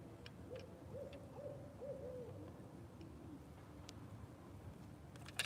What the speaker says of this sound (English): Y'all hear that hoot owl?